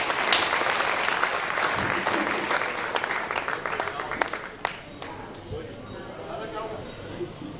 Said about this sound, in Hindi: आप सभी जोरदार तालियां बजा करके आमंत्रित